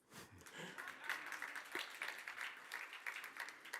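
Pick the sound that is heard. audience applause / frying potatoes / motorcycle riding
audience applause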